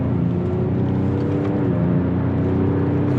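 A 2023 Ford Ranger Raptor engine in sport mode drones loudly and steadily with a rising, accelerating hum, heard from inside the vehicle with constant road and engine noise.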